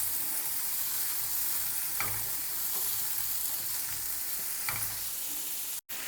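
Chopped tomato sautéing in a pan for egg bhurji: a continuous frying sizzle with soft periodic stirring knocks, steady and close, no voices, ending in a sudden brief dropout.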